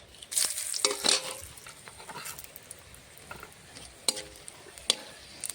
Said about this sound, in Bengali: আলু ভাজা ফোড়নে দিয়ে দেবো গোটা তেজপাতা, শুকনো লঙ্কা, দারচিনি, এলাচ